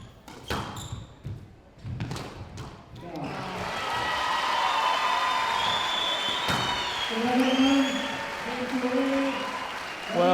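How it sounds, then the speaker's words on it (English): Early on, a few sharp thuds of a ball and footsteps ring out in a squash match at a women's world championship semifinal. Then the crowd bursts into sustained applause and cheering with whistles and shouts, and a commentator talks over it. "We can hear by the crowd roar who won that game."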